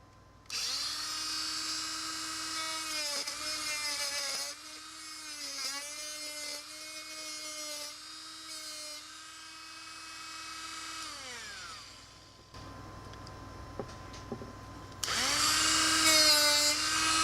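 Rotary tool fitted with a paper cutoff wheel cutting into pine wood: a loud, steady high-pitched whine that dips in pitch as the wheel bites, stops briefly, then returns at full speed near the end.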